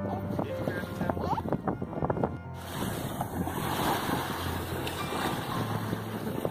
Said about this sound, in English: A boat just went by.